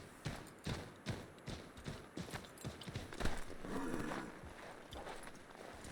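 Horse hooves clip-clop in a steady walking rhythm in Assassin's Creed III Remastered, with about a dozen distinct strikes, fairly close and moderately loud, easing into a softer shuffle near the end.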